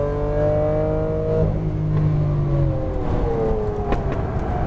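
A Lamborghini Aventador LP700-4 on a race track, its engine roaring loud and steady with a droning note that drops, then climbs and shifts as the throttle is worked.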